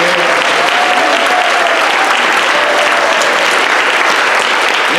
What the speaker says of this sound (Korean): 박수 받을 만하지요?